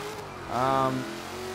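A supercharged Ford Mustang engine in Forza Horizon 3, fitted with upgraded cams, rises in pitch in a short acceleration burst, then settles back to a steady drone.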